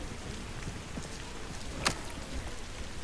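Heavy rain in the video game Arena Breakout falls as a steady, dense hiss throughout, with one brief sharp crack partway through and no speech over it.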